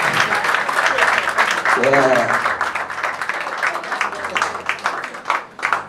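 Audience applause at a CD launch event for someone, steady crowd clapping running beneath an amplified voice talking over it.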